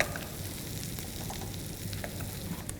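Chholar stuffing cooking with ghee in a pan, a soft continuous sizzle with faint stirring scrapes for a few seconds, fairly quiet and without talk.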